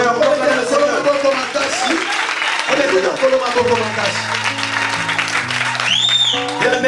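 A church congregation applauds to acclaim the Lord, a dense loud wash of clapping mixed with voices and sustained organ or keyboard tones.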